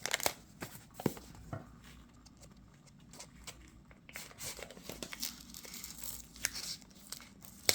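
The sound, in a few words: peeling stickers off a tarot deck box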